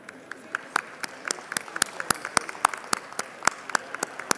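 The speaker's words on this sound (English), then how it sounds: "let's show them our gratitude with a big round of applause" Applause in the Texas House chamber after a resolution honoring kidney health work, sparse individual claps close by over a thinner crowd, steady but modest and brief.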